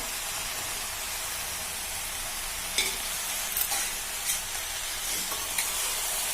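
Ivy gourd stir-fry sizzling in a pan as chilli powder is stirred in, a constant loud hiss broken by a few scraping taps of the spoon, with no talking.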